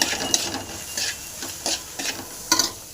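Salted okra fries in a pan for a lady's finger dish. A light, even sizzle carries periodic bursts of spatula stirring, with a few sharper clinks near the end and no speech.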